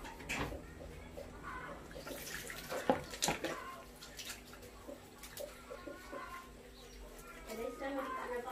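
A cat being given a quick bath, with splashing, pouring water and a running tap close by under soft speech, and a sharper splash near the three-second mark.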